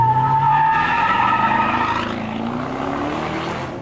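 A Chevrolet Camaro pulls away, its engine note rising in pitch and sweeping upward as it accelerates and recedes, loud and steady without speech.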